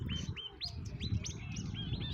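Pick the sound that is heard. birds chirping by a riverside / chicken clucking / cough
birds chirping by a riverside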